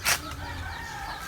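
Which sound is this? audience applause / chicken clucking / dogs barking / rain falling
chicken clucking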